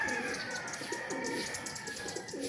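Tippler pigeons coo softly in repeated low burbling calls over a steady background hum.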